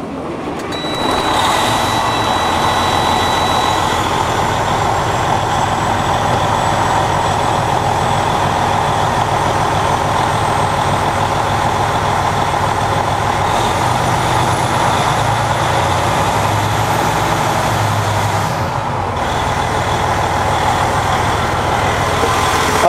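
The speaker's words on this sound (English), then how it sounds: "Listen to this truck start." A 2006 Freightliner Century truck engine starts, then keeps running with a loud, steady diesel drone close by for the rest of the stretch, with no talk.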